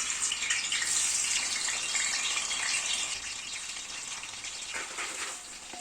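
Raw plantain pieces sizzle in hot oil, a loud, dense, bubbling hiss that eases slightly toward the end.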